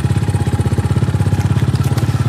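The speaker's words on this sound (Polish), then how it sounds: "No to pierwsza jazda." A Kayo 250 T4 dirt bike engine idles loud and close with a steady, fast, throbbing four-stroke pulse and a rattly, mechanical edge.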